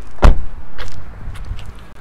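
A single solid thud of a 2024 Skoda SUV door shutting, followed by faint rustling and small clicks.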